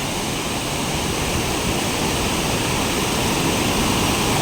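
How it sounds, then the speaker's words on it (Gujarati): A river runs close by with a constant full rushing roar, even and unbroken throughout, with no talking over it. "બહુ સરસ મજાનું પાણી જઈ રહ્યું છે"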